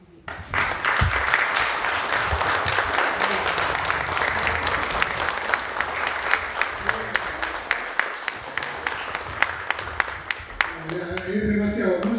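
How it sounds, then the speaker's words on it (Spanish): Loud, sustained applause from a crowd at a book launch fills the room for several seconds, dense clapping that thins toward the end as talk resumes. "un fuerte aplauso a Óscar"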